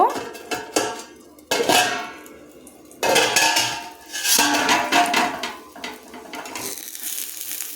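A metal lid is lifted off a frying pan cooking vegetable roti, with several sharp clanks and rattles of cookware set apart by short pauses, and soft sizzling between them.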